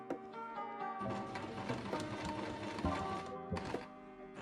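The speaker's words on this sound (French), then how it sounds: "Il ne reste plus qu'à coudre les deux parties ensemble" A sewing machine stitches two fabric pieces of a plush toy together, starting after a quiet second into a fast, even mechanical chatter that keeps running with slight bumps before a brief pause and a final burst.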